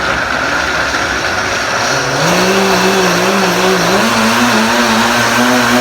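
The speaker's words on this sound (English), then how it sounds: "turn on your high-speed blender, start it at a low speed, bring it up to a higher speed" A high-speed blender whirs while blending almond milk, starting at a low speed and then rising with a clear upward shift in pitch partway through, steady and loud throughout.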